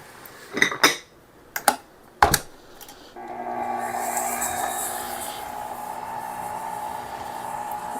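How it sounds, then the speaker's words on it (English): Butter and sugar are creamed together for cookie dough, opening with a few sharp clinks of a utensil against a bowl before a steady mixer whir takes over and runs continuously, fairly quiet and close. "cream the sugar and the butter together"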